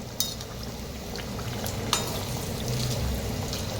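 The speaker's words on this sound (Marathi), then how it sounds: "तर मस्त असं तळायला लागलेले आहेत" Kadi vada fritters fry in hot oil with a steady close crackling sizzle, broken by a couple of brief sharp taps and spits over the continuous bubbling.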